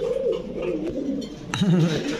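Pigeons of fancy Pakistani Kamargar, Teddy, Chua and Gorra breeds and Giribaj high-flyers in a loft, giving close, throaty rolling coos over a low background murmur.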